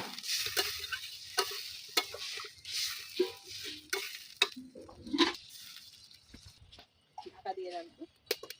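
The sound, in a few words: water added to a simmering cauliflower and egg curry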